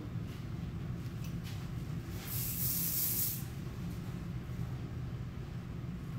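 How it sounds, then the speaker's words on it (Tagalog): Hair spray is released in a single loud, close hissing burst of about a second, sitting over a steady low background murmur. "Okay lang na mag-spray na tayo."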